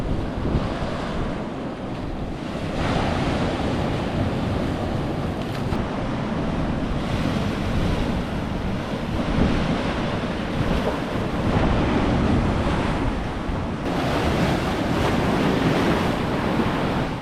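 Ocean surf at Noosa Heads, Queensland rolls and crashes continuously, with steady wave wash and buffeting wind noise across the microphone.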